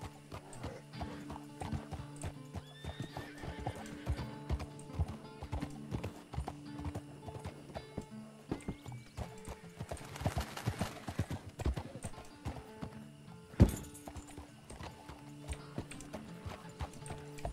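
Steady horse hooves clip-clopping in a rhythmic pattern over a hum of background tones, with a horse whinny and a sharp click partway through, in the video game RedM.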